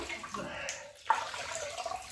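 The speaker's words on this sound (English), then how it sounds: "so we'll just rinse the face" Water splashes and runs as a face is rinsed after a shave at a bathroom sink, soft close-range trickles and splashes with a brief pause midway, the sound fairly quiet overall.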